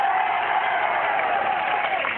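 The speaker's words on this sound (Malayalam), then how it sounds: "ഒന്ന് നന്നായിട്ട് കൈയടിച്ചേ." A crowd applauds and cheers at Kalabhavan Mani's stage show in Mattannur, producing a dense, steady wash of clapping that holds at an even level throughout.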